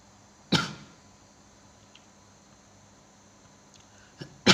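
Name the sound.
person coughing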